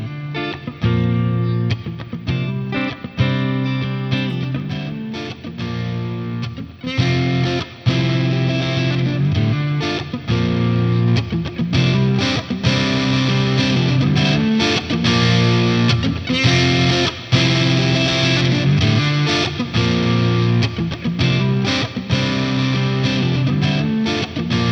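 Electric guitar played through a Lamb overdrive pedal at its most overdriven setting, with thick, gritty chords and riffs bordering on distortion, loud and sustained and played alone.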